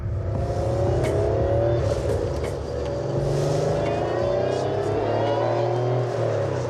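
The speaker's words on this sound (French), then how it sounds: "ça, c'est le pur son Porsche" Porsche engine accelerating, a loud, near roar whose pitch climbs steadily and holds strong for several seconds, heard alone without talk.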